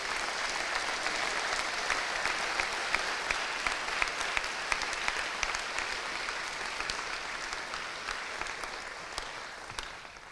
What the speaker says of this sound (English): May we please give these young people another round of applause.